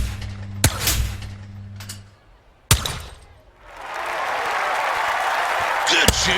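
Clay shooting in an Olympic video game: two sharp shotgun blasts with a pause between them, a third shot at the end, and crowd applause building up in the background.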